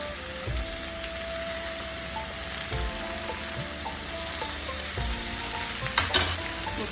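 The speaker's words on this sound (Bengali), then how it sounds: "এবার পোস্তটা দিয়ে দেবো" Ridge gourd frying in a pan as poppy seed paste is added, giving a soft continuous sizzle with a few low thuds and scraping stirs, fairly faint and without speech.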